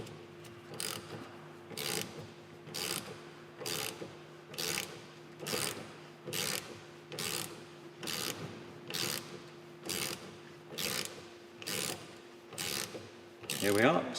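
A motorcycle chain breaker tool is cranked to push a rivet out of a chain, giving a steady rhythmic series of close ratcheting clicks and grinding mechanical turns, about a dozen repeating cycles.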